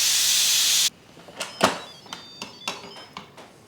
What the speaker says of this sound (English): I like to throw a cloth over the pressure release valve so that I don't have steam going everywhere.